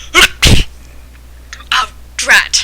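A reader's voice imitates a grey-green dragon's sneezes, several sharp, breathy bursts close to the microphone with short pauses between, loud and wet like a cold-ridden sniffle and blow.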